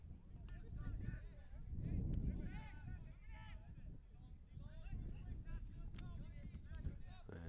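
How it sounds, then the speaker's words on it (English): Gusty wind buffets the microphone at an outdoor men's college soccer match, Tufts against Plymouth State, with low rumbling blasts rising and falling under steady play-by-play commentary throughout. "Pretty windy afternoon here."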